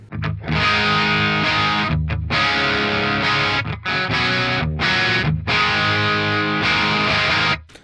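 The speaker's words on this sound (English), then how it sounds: "you got a little bit of distortion going on there" Electric guitar with mild overdrive from an Axe-Fx III Lovepedal Amp Eleven model chugs through chords and riffs, loud and continuous with a couple of brief pauses.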